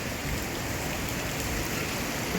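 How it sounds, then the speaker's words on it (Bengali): Rain falls the day after Cyclone Remal, a constant, even hiss of drops that stays steady throughout with no voices. "এখনও বৃষ্টি ছাট আসছে"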